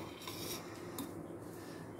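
Knife spreading garlic butter on bread for cheesy garlic breadsticks, a continuous soft scraping and rubbing with light clinks, close and quiet, no talking.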